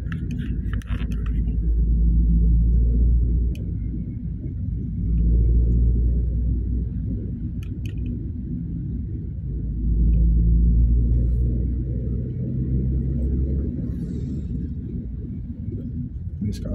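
A 2016 Toyota Avanza engine hums low and steady while driving in fourth gear, with a smooth rumble that swells and eases a few times. Faint rattles sit on top, and no one talks.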